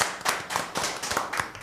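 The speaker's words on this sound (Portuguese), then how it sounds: "uma salva de palmas por esse jovem talento" Audience clapping for a performer on a Brazilian talk show, a brief burst of irregular hand claps, fairly close and clear, several distinct claps over under two seconds with no voices.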